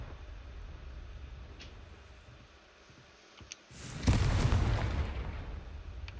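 A Confringo blast spell explodes in Hogwarts Legacy: a sudden loud burst that swells and rumbles for a couple of seconds, following quieter ambient background.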